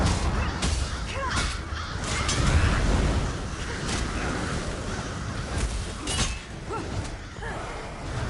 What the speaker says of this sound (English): there's gotta be something here for all of these birds to be circling about